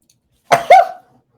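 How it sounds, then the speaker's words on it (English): A single close, loud human sneeze in two quick bursts, a sharp intake then a forceful release, alone in an otherwise quiet room. "I'm going to sneeze again."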